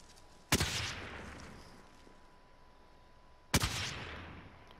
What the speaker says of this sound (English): Who's shooting at, bro?